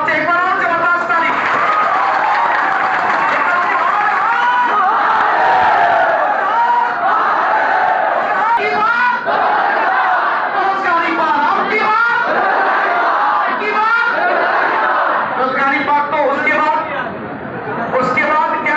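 A crowd at an indoor gathering applauds and cheers loudly and continuously, with dense clapping, whoops and chatter throughout while a voice speaks over the noise.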